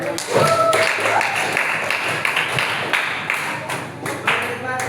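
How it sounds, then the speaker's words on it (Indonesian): A short burst of group clapping from a school class, fairly close, with voices mixed in under the applause. "Tepuk tangan dulu untuk kita semua."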